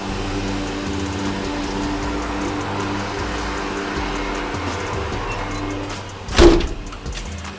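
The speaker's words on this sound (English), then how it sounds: "Let me close this door." A single door thud lands near the end, a sharp short burst over a steady mechanical hum and faint outdoor engine drone.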